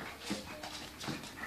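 A litter of 7.5-week-old puppies whimpering softly, a few faint, brief whines over quiet room noise in a short stretch.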